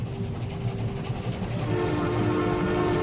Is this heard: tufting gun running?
no